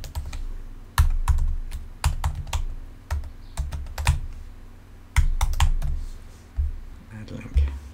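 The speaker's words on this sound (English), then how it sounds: "So let's just type in here" Keys clatter on a computer keyboard in short bursts of typing, close and fairly loud, with brief pauses between runs.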